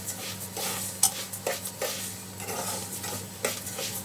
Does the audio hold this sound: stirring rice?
yes